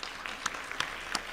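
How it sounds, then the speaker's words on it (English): At a health care presentation, an audience claps briefly and faintly, a soft patter with a few louder individual claps in just over a second. "So, yeah, you can clap."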